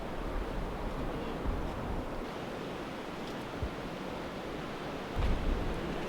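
Wind sweeping through the trees on a Scottish hill near a tower, a steady surf-like rush with soft swells and gusts, fairly close and continuous, with no voices heard.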